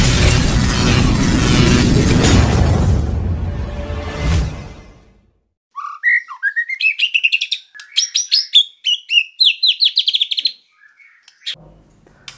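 A white-rumped shama sings a run of sharp, varied whistles and chirps, clear and close, after a loud rushing burst of noise fades to silence.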